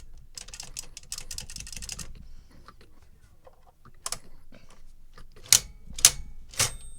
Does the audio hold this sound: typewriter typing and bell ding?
yes